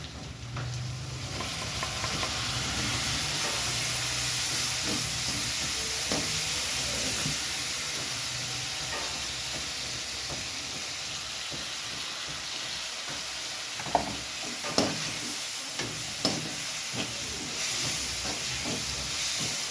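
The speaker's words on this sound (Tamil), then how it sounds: "இஞ்சி பூண்டு பேஸ்ட்டை கொஞ்சம் ஊற்றிக்கலாம்" Ginger garlic paste hits softened onions in a pan for chicken fry, setting off a loud, steady sizzle and steam hiss that holds for the whole stretch, with a few clinks of a spoon near the end and no talking.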